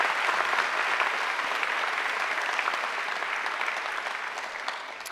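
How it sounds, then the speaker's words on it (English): A large audience at a graduation ceremony applauds steadily, dense clapping holding strong throughout and easing slightly toward the end. "I think Angela deserves another great round of applause."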